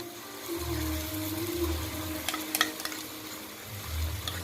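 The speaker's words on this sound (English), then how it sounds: "So when it is nice and brown, I will add ginger garlic paste." Ginger garlic paste sautéing in a pan after onions have browned, a low steady sizzle with stirring and a few clinks of a utensil against the pan partway through, heard alone without talk.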